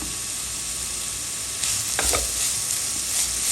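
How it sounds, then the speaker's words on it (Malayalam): Finely chopped onion with salt frying in a pan, a steady sizzle that swells as a spoon stirs and scrapes through it partway, close and clear with no voices. "അതിലോട്ട് ചെറുതായി മുറിച്ച ഒരു ഉള്ളി ഒരു വലിയ ഉള്ളി ചെറുതായി മുറിച്ചതാണ് അതിട്ട് കൊടുത്തു ഇനി അതിലോട്ട് ആവശ്യത്തിലുള്ള ഉപ്പും ഇട്ട് കൊടുത്ത് ഒന്നിനൊന്നായി ഇളക്കി കുറച്ച് വേവിക്കാം"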